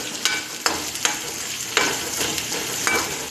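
Onion and garlic sauté with lentils in a pan for cabbage chutney: a steady sizzle broken by several sharp scraping stirs at irregular intervals, close and clear with no voices.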